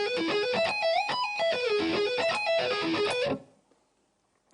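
Electric guitar plays a string-skipping arpeggio at slow tempo, with clear, evenly spaced single notes stepping through a repeating sequence for about three seconds before ringing off into silence.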